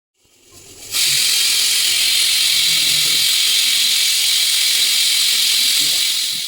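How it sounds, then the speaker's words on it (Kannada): A loud, steady hiss of steam bursts out after a brief quiet start and keeps blasting without letup, like a pressure cooker venting. "ಕುಕ್ಕರ್ ಮುಚ್ಚಿ 4ರಿಂದ 5 ವಿಷಲ್ ತೆಗಿಬೇಕು"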